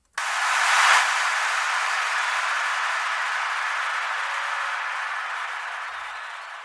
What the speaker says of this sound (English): So it's a mixture of white noise and a crowd,